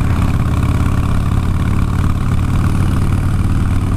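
A vehicle's engine and exhaust run at a steady idle close by, a low, rumbling throb with an even pulse and no change in pitch, heard alone with no voices.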